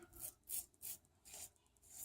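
A heavy safety razor scrapes through stubble in short, rasping strokes, roughly four close, quiet passes with brief gaps between them and no talking.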